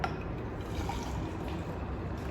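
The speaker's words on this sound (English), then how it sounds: "I'm gonna pour it into my cup." Homemade detox juice pours from a container into a cup, a steady close liquid splash and trickle running for a couple of seconds without speech.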